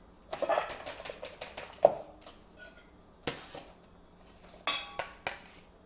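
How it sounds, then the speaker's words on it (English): Chopped onion and garlic cloves tip into a bowl for guacamole and are mixed, with a scatter of close clinks and clatters of utensil on dish, several sharp knocks standing out against a quiet background. "We are going to place a 1/3 cup onion and 2 garlic cloves into a bowl."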